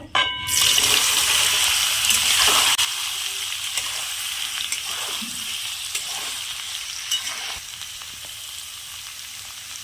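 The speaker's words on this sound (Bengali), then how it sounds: "সয়াবিনগুলো এইভাবে চিপে জল বের করে নেব" Water being squeezed out of soaked soybean chunks by hand, a loud wet gushing and spattering for the first few seconds, then a quieter steady hiss with soft intermittent drips and squelches.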